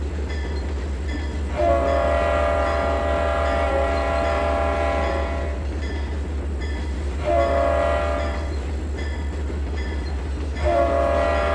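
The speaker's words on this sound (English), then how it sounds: "There's the whistle. The whistle post." A train whistle sounds in Trainz 2022 at a whistle post near a level crossing, with sustained horn blasts in three repeated long calls over a constant low rumble of the locomotive.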